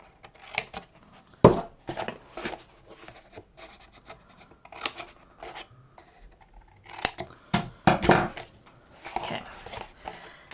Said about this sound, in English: And then we're going to cut here.